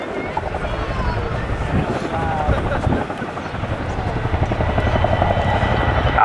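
A Royal Air Force Boeing Chinook twin-rotor helicopter lifts off at an air show. Its rotors make a loud, continuous, throbbing chop, roughened by wind buffeting the microphone.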